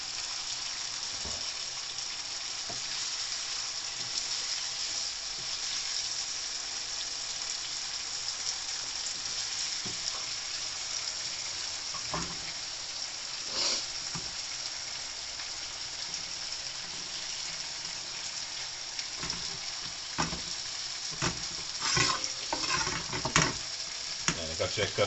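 Chicken karahi sizzles steadily in the wok over the flame, a continuous close frying hiss with scattered pops and crackles throughout.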